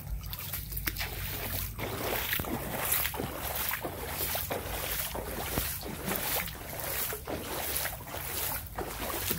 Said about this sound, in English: I feel like I'm sloshing around.